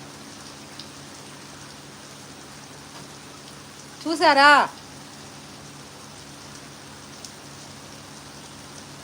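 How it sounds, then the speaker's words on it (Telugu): Heavy rain falls outdoors in a steady, even hiss of drops on surfaces, with a woman's short spoken question cutting in briefly midway. "ఫుల్గా పడుతుంది వర్షం."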